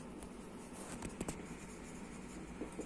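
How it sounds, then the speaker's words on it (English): Pen or chalk scratches out a math proof for a grade 10 lesson on real numbers, soft close scraping strokes with a few sharper taps, quiet and without talk. "So here we write it"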